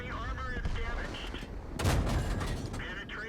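Artillery fire in the tank battle game World of Tanks, a heavy boom bursting out midway through ongoing game sounds while someone talks over it.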